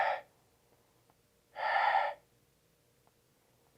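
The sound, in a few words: voice imitating heavy breathing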